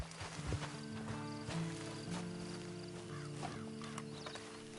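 Horse hooves clip-clopping at a steady walking pace in the video game Red Dead Redemption 2, mixed with faint game ambience and tonal background music.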